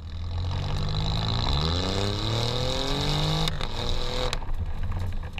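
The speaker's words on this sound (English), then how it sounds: "the exhaust note, especially in race mode, is simply glorious" A 2017 Alfa Romeo Giulia Quadrifoglio accelerating in race mode, its exhaust note a steady droning growl with rising engine pitch sweeps through the gears, heard alone without talk.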